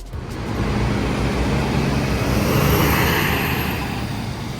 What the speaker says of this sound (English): Some of the buses are also fairly loud.